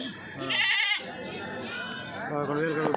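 Goats bleating at a busy livestock market, with a couple of wavering bleats rising amid constant chatter and bargaining voices.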